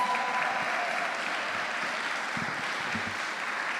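Sustained applause from an audience at an inter-primary schools debating championship, many hands clapping in a thick, even roar that holds at steady volume throughout.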